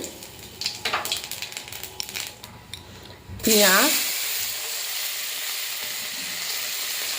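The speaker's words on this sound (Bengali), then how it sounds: "কড়াইতে তেল আছে, এবার দিয়ে দেবো ফোড়নে কালো জিরে" Nigella seeds and onion drop into hot oil in a kadai, setting off a sudden loud sizzle that settles into a steady frying hiss, after softer kitchen clatter and faint talk.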